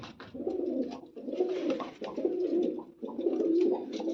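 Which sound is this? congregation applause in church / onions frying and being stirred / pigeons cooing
pigeons cooing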